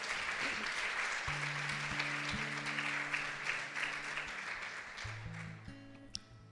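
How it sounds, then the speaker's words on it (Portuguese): Church congregation applauding the Lord during a Portuguese-language worship service, steady broadband clapping from a crowd over about six seconds with sustained organ or keyboard chords underneath. "Vamos aplaudir ao Senhor."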